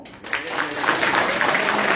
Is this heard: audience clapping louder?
yes